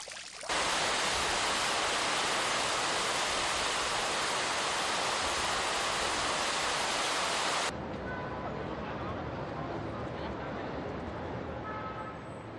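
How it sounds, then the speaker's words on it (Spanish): The Fuente del Negrito, the first fountain in Valencia, sends out a loud, dense rush of splashing water up close, then shifts abruptly to a softer, more distant flow partway through. "La del Negrito es la primera fuente que tuvo Valencia."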